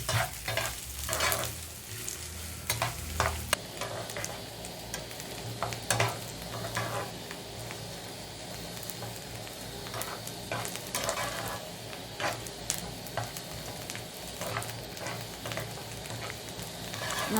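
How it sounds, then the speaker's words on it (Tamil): Two large chopped onions and green chillies fry in a pan for chicken samosa filling, a steady close sizzle broken by repeated scraping stirs, with no talking. "நல்லா ப்ரௌனாக ஆகிற வரைக்கும் கிண்டினே இருங்க"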